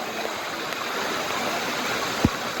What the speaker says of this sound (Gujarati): આ ધોધ